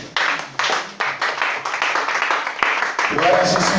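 A church congregation claps and applauds in a loud, dense, continuous wash of hand claps, with voices speaking and calling out over it.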